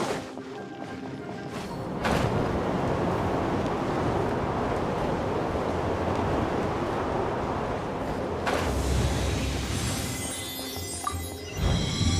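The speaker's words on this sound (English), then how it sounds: "Let's ride this wind current, shall we?" A steady, loud whoosh of rushing wind from a wind current in Genshin Impact roars continuously, swelling slightly near the end, with no voices.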